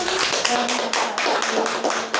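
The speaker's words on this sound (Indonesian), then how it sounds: "Baik, tepuk tangannya." A classroom of students clapping hands together in a short burst of applause lasting a couple of seconds, with overlapping claps close by and a few voices mixed in.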